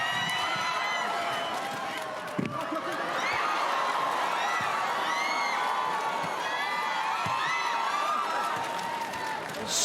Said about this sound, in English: Screams from the Iranian fans in the crowd